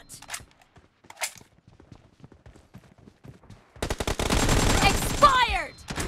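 AKM rifle fire in a video game: a few soft footsteps and quiet movement, then a loud, sustained burst of rapid automatic gunfire filling the last couple of seconds.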